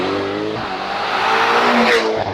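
Ferrari GTC4 Lusso V12 engine revving loud and close, its throaty note swelling and rising in pitch over a couple of seconds, with no talking.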